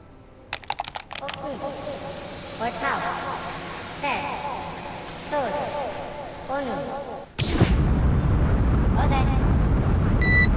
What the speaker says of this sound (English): Liftoff confirmed.